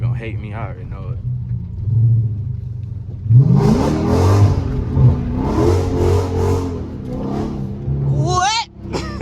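Car engine revving and roaring while drifting through a neighborhood, rising and falling in pitch close up, with people talking loudly over it inside the car.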